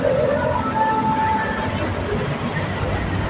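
BTS Silom line Skytrain rolling into a station platform in Bangkok, a loud steady rumble with high brake squeals and a faint tonal whine, people talking faintly beneath it.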